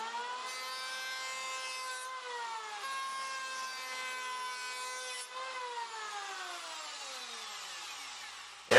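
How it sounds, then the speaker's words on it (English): A power planer shaves an angle into a piece of wood, its motor holding a loud, steady whine that dips and slides in pitch as the blade bites and eases off, with no talking. "Now I can maybe take the planer down one notch, and that way I'm not cutting much material"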